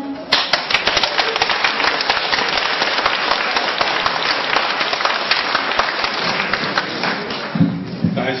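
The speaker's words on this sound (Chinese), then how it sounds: "感谢各位的掌声。" An audience gives sustained, dense applause to crosstalk (xiangsheng) performers in a theatre, steady and loud from start to finish, with no speech over it.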